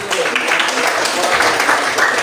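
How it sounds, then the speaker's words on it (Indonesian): Applause from a classroom audience after a group presentation, a steady dense patter of clapping filling the whole moment at moderate loudness with voices mixed in. "Ayo berikan tepuk tangan dulu."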